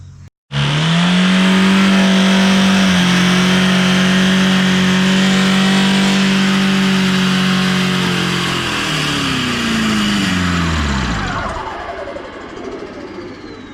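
A VW TDI diesel engine runs away with a stuck throttle, bursting in at a loud, steady high-rev roar that holds for several seconds before sagging and winding down near the end.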